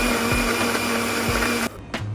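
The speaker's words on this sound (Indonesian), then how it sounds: "Oke, kita blender." An electric blender grinds a spice paste for Penang-style nasi kandar. It runs with a loud, steady whir for about a second and a half, then cuts off with a couple of brief rattles as it stops.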